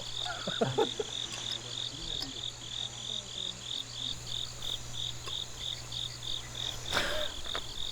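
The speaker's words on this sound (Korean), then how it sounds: "이 귀뚜라미 뭐야?" Crickets chirp in a steady, rapid rhythm that runs continuously throughout, with frogs croaking beneath, set against a quiet outdoor night backdrop and a faint low hum.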